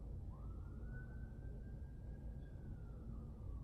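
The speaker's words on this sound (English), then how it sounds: "Oh, and there's sirens, guys." A siren wails steadily in the distance, its long rising-and-holding tone sitting over a constant low rumble of background noise.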